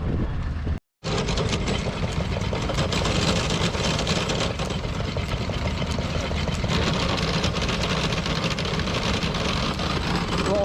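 A vintage tractor engine runs steadily at a show, a continuous low rumble and idle heard fairly close, with a brief dropout near the start and no clear talk.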